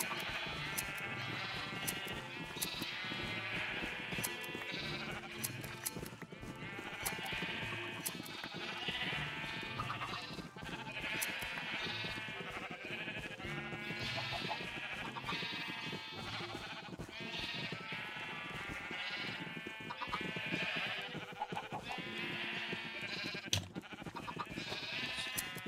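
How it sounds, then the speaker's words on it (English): Sheep bleat repeatedly in a farming video game, layered over a dense, loud, continuous bed of game music and sound that runs the whole time without pause. "I'm gonna go shear some more of the sheep."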